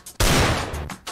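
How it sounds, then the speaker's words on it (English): Gunfire from a gun in a Friday Night Funkin' animation: a loud, sustained burst of rapid shots right up close, dropping off briefly and then ending in one more short blast. "A freaking gun, dude."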